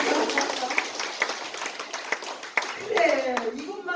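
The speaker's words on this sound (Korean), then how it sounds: "이럴 때 박수 한번 쳐주신 거죠?" Scattered audience clapping in a lecture hall, uneven claps spread across several seconds at moderate distance, with people talking underneath and a voice rising near the end.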